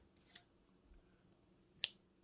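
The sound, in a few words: cutting yarn with scissors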